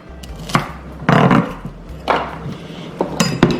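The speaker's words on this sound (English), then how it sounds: "I'm just dicing up some celery sticks" A kitchen knife dicing celery sticks on a cutting board for Jamaican chicken soup, a series of sharp, close chopping knocks in uneven bursts with brief pauses between them.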